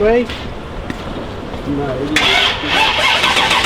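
A 1979 Pontiac Trans Am barn find being cranked over, its engine churning steadily in the foreground, then a harsher, brighter engine sound picking up partway through, with people talking over it.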